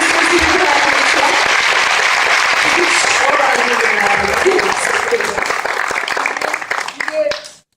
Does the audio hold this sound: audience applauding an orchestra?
yes